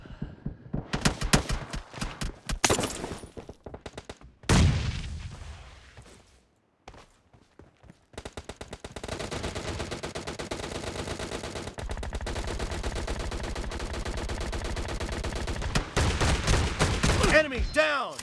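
M1014 shotgun blasts and automatic fire in a team deathmatch video game, bursts of sharp shots, a short quiet gap, then sustained rapid firing, loud and close with game voice callouts mixed in.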